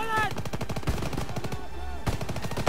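Rapid bursts of machine-gun and rifle fire in the World War II shooter game Call of Duty: WWII, close and loud, with quick rattling shots in steady succession and a brief pause near the end.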